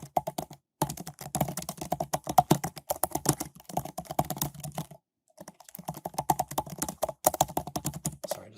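Fingers type on a computer keyboard in rapid, close, crisp keystrokes that run steadily for several seconds. The typing stops briefly once, then resumes at the same brisk pace.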